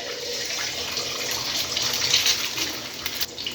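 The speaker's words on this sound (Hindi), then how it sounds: "अंडे को तोड़ के हमने डायरेक्ट डाल देना है इधर" Egg dropped into hot cooking oil for Malaysian nasi goreng, giving a steady, close hissing sizzle of frying that holds at an even level throughout, with no talk.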